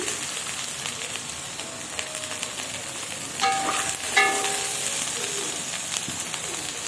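Chopped tomatoes and ridge gourd frying in a pan, giving a continuous close sizzle with occasional louder bursts and faint clinks, and no talking.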